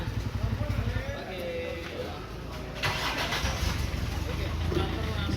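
A boxy Toyota Kijang engine fitted to a red odong-odong tourist train cranks over and catches, then settles into a rough, close idle while someone talks over it.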